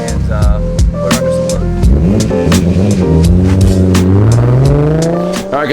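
A Toyota JZX110 Mark II engine revs hard on a dyno, its loud droning note climbing steadily in pitch through a long pull, with brief blips at the start and a faint voice in the background.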